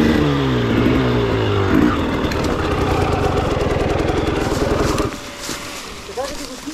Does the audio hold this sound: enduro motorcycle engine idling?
yes